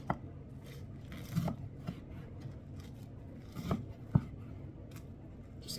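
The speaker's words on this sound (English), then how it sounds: "Just cut it in little pieces like that" A knife chops bacon into small pieces for bean and bacon soup, giving a few sparse, irregular cutting thuds and scrapes on a board, fairly quiet and close.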